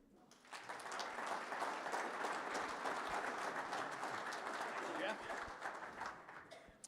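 An audience at a company safety kickoff applauds the president, a faint, steady wash of clapping that lasts several seconds before tapering off.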